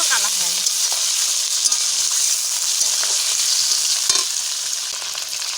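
Mutton fries in a pan with a loud, even, close hiss and crackle that runs throughout, with a few faint clinks of stirring and no clear speech.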